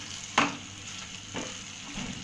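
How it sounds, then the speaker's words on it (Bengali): A spice paste of ground cashew, raisin, melon seed and poppy seed frying in a pan for Bengali chicken roast, a soft continuous sizzle broken by a few brief scraping stirs. "আগে থেকেই বেটে রেখেছিলাম কাজু, কিশমিশ আর চারমগজ, সেটা দিয়ে দিলাম। আর সামান্য পরিমাণ পোস্ত দিয়ে ভালোভাবে মশলার সঙ্গে কষিয়ে নিচ্ছি।"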